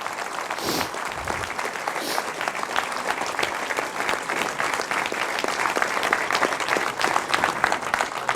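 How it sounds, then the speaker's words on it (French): An audience at a town mayor's New Year address claps steadily for the volunteers, a dense, continuous applause that holds level throughout with no voices breaking through. "je crois qu'on peut tous les applaudir bien fort"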